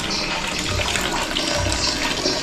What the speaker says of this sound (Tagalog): Okay na Maureen, gumagana na ang tubig.